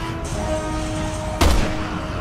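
One loud, close shotgun blast erupts in Resident Evil 6, a sudden heavy boom that stands out over a low steady hum and faint ambient tones.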